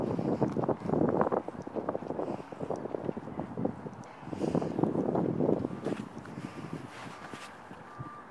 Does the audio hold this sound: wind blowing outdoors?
yes